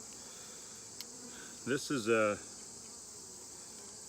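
Honey bees from a wild swarm fill an open, honey-packed hive with a steady, even buzz that runs unbroken throughout, while a voice speaks briefly midway.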